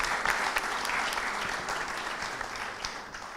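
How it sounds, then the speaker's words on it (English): A conference audience applauds a moderator at a UN event on governing AI, dense sustained clapping that starts loud and slowly tapers, with no voices over it. "I wanted to ask you to give a big applause to the moderator."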